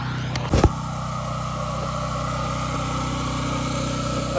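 A pressure washer engine running steadily during a house washing rinse, a constant mid-pitched idling drone with a short clatter near the start, moderately loud and alone.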